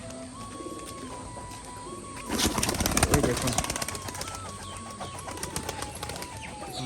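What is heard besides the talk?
pigeons cooing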